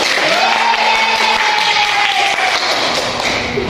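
A classroom of seventh-grade students claps together, a steady, dense patter of many hands filling the room at close range, with a faint sustained tone running underneath.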